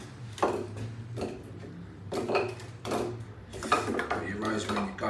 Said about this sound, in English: So I'm just gonna empty mine into a bowl.